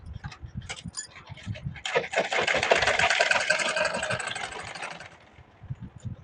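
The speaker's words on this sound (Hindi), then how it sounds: "हम कैसे सिलाई लगा रहे हैं।" A sewing machine stitches a blouse with a rapid, steady mechanical rattle for about three seconds at close range, with softer clicks and handling noises before and after.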